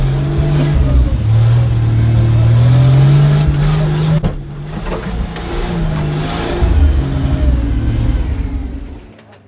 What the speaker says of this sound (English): For the unmodified cars without the benefit of big tyres and long suspension travel, the riverbed was a much more serious challenge.